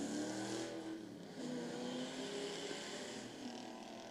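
A 1968 Ford Falcon XT GT race car launches off the line at a hill-climb revival meet, its V8 revving and accelerating in a sustained rising growl, fairly distant and faint.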